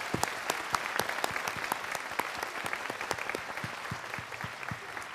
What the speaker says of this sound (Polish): naprawdę gorące brawa w podziękowaniu.